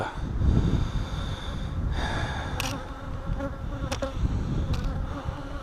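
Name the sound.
bees flying around a mating nuc hive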